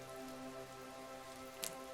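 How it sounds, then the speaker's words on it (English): Rain falls steadily outside at night, a soft constant patter of raindrops with a brief sharper splash near the end and no voices. "They're just raindrops."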